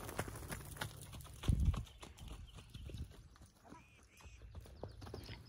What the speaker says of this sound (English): He's such a cool little horse.